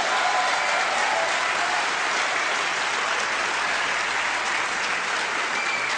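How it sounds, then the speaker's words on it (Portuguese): A church congregation applauds steadily during a sermon, a dense, even wash of clapping that fills the whole stretch at a constant level with no voice on top. "Você pode glorificar o Senhor e aplaudi-lo?"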